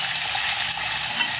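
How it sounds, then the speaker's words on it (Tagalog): Food frying in a pan at home gives a steady, dense sizzle and hiss that holds at an even loudness throughout, close and continuous, with no talking over it. "Mag-prito na tayo."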